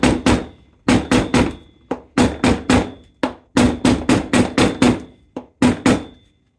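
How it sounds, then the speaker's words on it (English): A hammer taps a braided 9 ft bullwhip as it is shaped, giving sharp, close, ringing knocks that come in quick clusters of two to five with short pauses between them. "We'll take and tap things around a little bit with this hammer"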